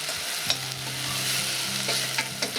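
Lentils and browned fried onions are stirred in a hot pan. A steady sizzle runs underneath, with a few sharp scrapes and taps of a utensil spaced through it.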